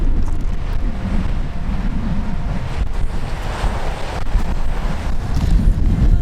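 Strong wind buffets the microphone with a loud, low rumble, gusting continuously over the wash of rough water on a windy day by boats.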